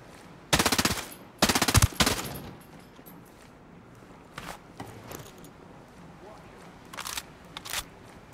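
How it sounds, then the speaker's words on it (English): Gunfire in the tactical shooter Ghost Recon Breakpoint during close-quarters combat: two loud bursts of automatic fire up front, then scattered quieter single shots later, with background ambience between. "Shoot those assholes! Shoot them!"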